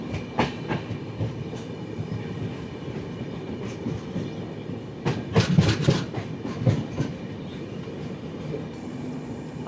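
Gitanjali Express passenger train travelling from Odisha into Jharkhand, heard from inside a carriage: steady rumble with repeated clickety-clack wheel beats over rail joints, loudest in a cluster of sharp clacks midway, no talk.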